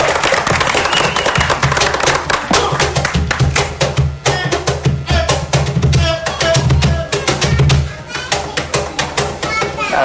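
A standing audience applauds a Peruvian musician with loud, dense, sustained clapping, mixed with cheering voices throughout.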